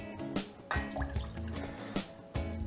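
Water is poured into a measuring container for a vinegar and sugar pickling brine, giving a close, splashing trickle with uneven bursts and drips over a few seconds.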